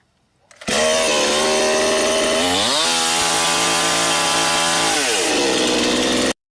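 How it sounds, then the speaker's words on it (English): A chainsaw at a demolition session fires up abruptly and roars loud and close, its engine pitch rising and falling as it revs before cutting off sharply. "it's not how you're supposed to start a chainsaw"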